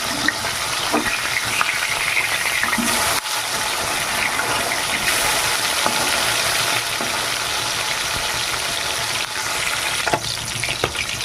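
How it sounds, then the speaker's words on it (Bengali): Continuous vigorous sizzling of fish frying in oil in a well-heated wok, dense and crackly, with occasional louder spits and brief dips in intensity. "মাছগুলো আমার ভাজা নিয়েছে"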